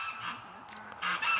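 Muscovy ducks give harsh, honking calls outdoors, two bursts of calling separated by a short pause, moderately close with no voices.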